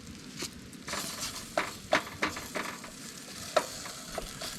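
Steady crackling sizzle of food frying in a pan on a camp stove while truck camping, with a few sharp pops and light clinks of a utensil stirring, close up.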